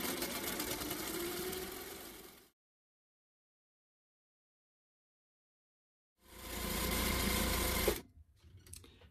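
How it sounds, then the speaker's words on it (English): Free-motion quilting on a sewing machine along pre-drawn lines: a steady close motor hum for about two seconds, then silence, then another short burst of stitching before stopping. "I'm just going to stitch approximately parallel-ish to those lines I've made"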